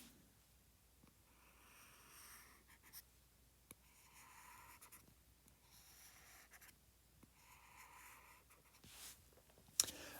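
A pen sketches a graph on paper in quiet, repeated scratchy strokes, close and soft, with short pauses between bursts of drawing.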